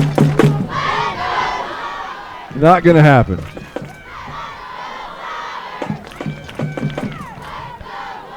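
Cheerleaders at a high school football game scream chants in rhythmic bursts over crowd noise, loud and close, while someone speaks in between.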